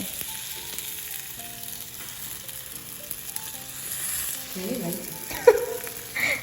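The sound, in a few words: face pack mixture sizzling in ghee in a pan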